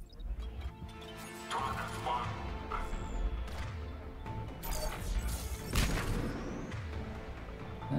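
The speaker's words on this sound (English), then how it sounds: "And the explosions." Explosions in Mass Effect 3 burst and crash amid a constant busy din, with a couple of sharper blasts standing out partway through.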